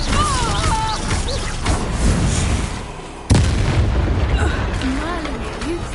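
A Bombarda blasting spell in Hogwarts Legacy sets off a sudden, loud explosive burst midway through, amid continuous game music, effects and character voices.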